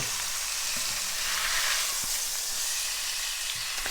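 Beef pot roast searing in a hot pan, a loud, steady sizzle and spitting hiss filling the clip continuously, with occasional soft knocks as the meat is moved, no talking.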